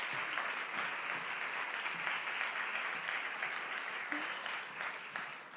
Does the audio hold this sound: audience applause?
yes